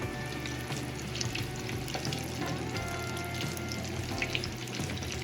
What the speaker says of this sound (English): This way the oil doesn't get too cold while it's frying.